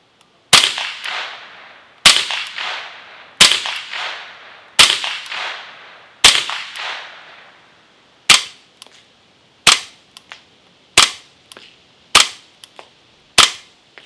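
Eleven crisp shots ring out from a rifle fitted with an Optimus silencer: the first several are sharp supersonic cracks with lingering decay, and the later subsonic rounds are shorter, dry snaps with a faint clack of the action cycling between them.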